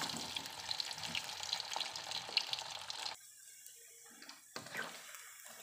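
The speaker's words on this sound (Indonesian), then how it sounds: "Terus kita goreng pentol." Pentol meatballs fry in hot oil with a dense crackling sizzle and occasional stirring clinks, which then drops abruptly to faint scattered pops near the end.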